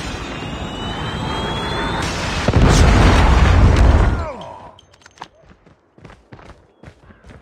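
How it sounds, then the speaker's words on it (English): Predator missile strike explosions in a COD Mobile team deathmatch, a loud sustained blast with heavy low rumble that fades after about four seconds into quieter scattered pops and footsteps. "Friendly predator missile inbound."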